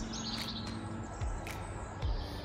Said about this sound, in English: you can hear all of the birds